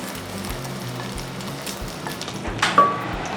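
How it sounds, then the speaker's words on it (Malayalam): Coconut pieces frying in about two teaspoons of coconut oil in a pan, a steady close sizzle with soft crackles and a few brief louder pops near the end. "തേങ്ങാക്കൊത്ത് ഏകദേശം ഫ്രൈ ആയി വരുന്നുണ്ട്."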